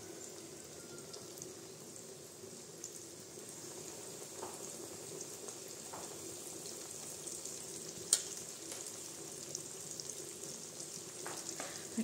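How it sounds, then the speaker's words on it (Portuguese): Breaded steaks, coated in flour, egg and breadcrumbs, fry in hot oil in a frying pan, giving a steady, quiet crackling sizzle with a few faint clicks and taps throughout. "E aqui eu tô com a frigideira com óleo quente"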